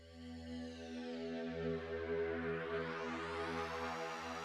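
A sustained synthesizer tone with a swirling, sweeping chorus shimmer, steady and fairly quiet, with no voices.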